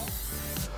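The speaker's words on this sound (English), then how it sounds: "let's get some pan spray on these guys" Cooking spray hisses from a can onto cake pans in a kitchen: one short, close spritz that stops abruptly.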